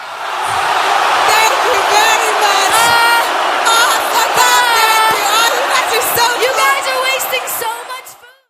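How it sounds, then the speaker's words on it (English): Angry concert crowd at a UK gig roaring, booing and yelling loudly and continuously after a band finishes, a dense wall of hostile voices with whoops and shouts rising through it before cutting off. "listen to the roar of rage, booing and yelling when they finish UGLY"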